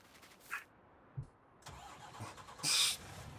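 A truck engine starts in Farming Simulator 19 with a few short cranking bursts. The engine then catches and settles into a quiet mid-pitched idle, with a sharp hiss near the end and no talking.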